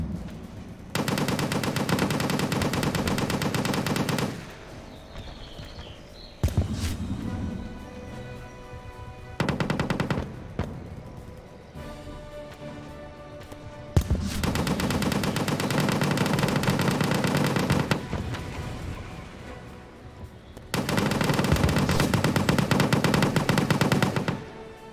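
Video-game artillery and machine-gun fire roar in Total Tank Simulator during a defence of Poland against the German Blitzkrieg, dense rattling bursts alternating with short quieter gaps, loud and continuous.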